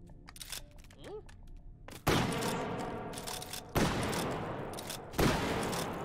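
Shotgun fire in the VR game Hot Dogs, Horseshoes & Hand Grenades, three loud booming blasts spaced about a second and a half apart, each with a long decaying tail, after a stretch of quieter clicks and a brief vocal sound.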